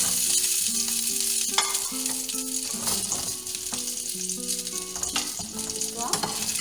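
Chicken for chicken 65 frying with curry leaves in hot oil, a loud, busy sizzle with crackles and stirring clatter throughout, while steady background music plays.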